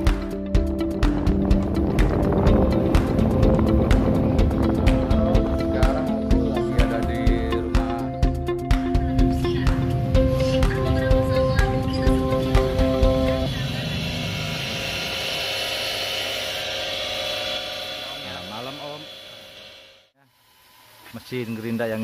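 Electric grinding machine cutting and polishing amethyst gemstone, a loud continuous whine with tonal hum and scraping bursts, shifting to a higher thinner pitch as work continues, then briefly stopping and restarting.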